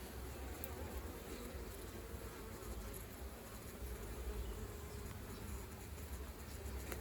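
Bees buzz continuously around an open beehive during mini maintenance work, a dense, steady hum of many insects close by with no talking.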